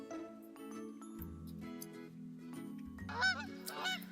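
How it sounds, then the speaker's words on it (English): Goose honking inserted as a sound effect during a children's story reading about a wolf meeting a goose and her goslings, with several loud, wavering honks near the end over a background music bed. "Honk! cried Mrs. Goose."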